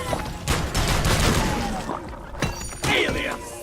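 Automated engineer turrets in Deep Rock Galactic fire rapid bursts of gunfire, loud and close, in several volleys with crashing impacts and game effects mixed in.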